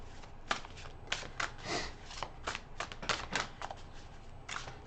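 Tattoo Tarot cards being shuffled by hand, a quiet run of crisp riffling bursts and soft slaps in an uneven rhythm, close to the listener, with no talking.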